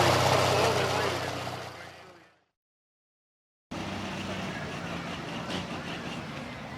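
Pulling tractor at a truck and tractor pull, its engine roaring loud and near, then cutting out into a second of silence before the heavy roar returns and holds steady.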